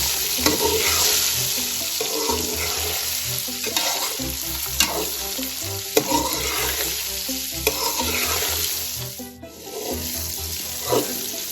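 Spices sizzle and crackle in a hot pan, tempered for a gunda (lasora) pickle, while a utensil stirs and scrapes rhythmically, with a continuous frying hiss and no speech.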